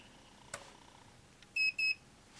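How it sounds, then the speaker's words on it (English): A LevelMate Pro leveling unit gives two short, clear electronic beeps in quick succession as it switches on, close and distinct against a quiet background with a faint click before them. "When you turn it on, it'll beep twice so you know that it's on."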